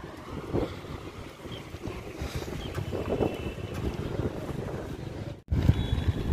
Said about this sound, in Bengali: হাওয়া হচ্ছে দেখেই বুঝতে পারছো এগুলো কেমন হচ্ছে।